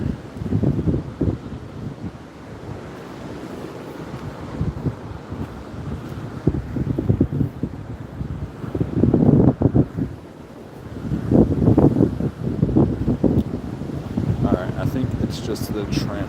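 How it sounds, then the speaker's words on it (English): Strong outdoor wind buffets the microphone in steady gusts, a loud, rumbling roar that rises and falls throughout, with a voice talking underneath. "it'd be a really nice day today if it wasn't incredibly windy"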